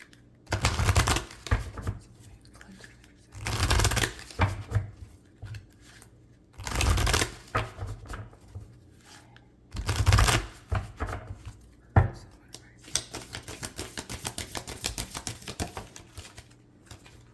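Tarot cards shuffled and pulled in a pick-a-card reading, with repeated papery riffles and rustles in bursts, then a steadier patter of card handling, close and fairly loud, no speech.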